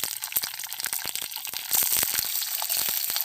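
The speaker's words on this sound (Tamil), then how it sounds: "இந்த வாழைக்காய் நல்லா கொஞ்சம் நேரம் வதங்கட்டும்." Sliced raw plantain frying in hot oil, a close, dense crackle and hiss with rapid sharp pops throughout, growing slightly louder midway.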